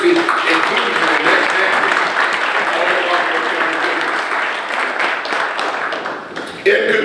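A crowd applauds at a county State of the County morning session, with sustained broad clapping that fades near the end before a brief renewed burst, and a voice sounds over it at times.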